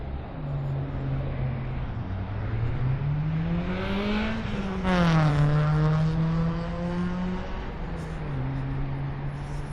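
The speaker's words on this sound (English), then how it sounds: "I hope that car wasn't stopping to talk to me." A passing car sweeps by close to the road, its engine hum rising to a loud peak and then falling away as it moves off, heard from an electric unicycle rider's position.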